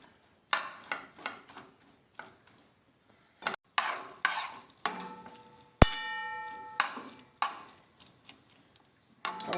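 Irish potato being stirred and mixed by hand for a plantain fish pie, a series of scraping, clattering strokes in bursts with brief pauses, close and fairly loud, with no talking.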